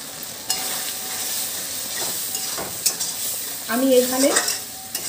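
Prawns sizzle softly in a kadai with coconut milk, a low, steady frying hiss with a few light clinks and a brief scraping stir near the end.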